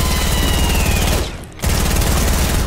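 Rapid automatic gunfire crackles loudly in a shooter video game, a steady stream of shots broken by one brief gap before firing resumes.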